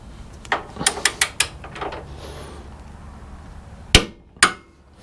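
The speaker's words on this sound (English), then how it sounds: "our track bar bolt, we're going to take to 125 foot-pounds." Torque wrench tightening a track bar bolt on a Jeep JK, a burst of sharp ratcheting clicks followed by a lull and then two loud, close metallic clacks.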